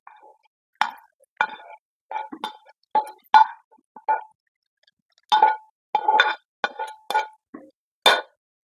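Browned coconut mixture is poured and tipped into a pot of raw-banana erissery curry, giving a series of short plops and light metallic clinks from a spoon against the vessel, spaced irregularly with quiet gaps between.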